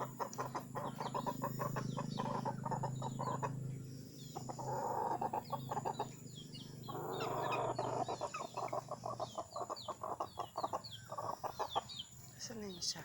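Chicks and ducks cluck, peep and quack in rapid bursts, fairly close, with a person speaking intermittently over the animal noises in a farm setting.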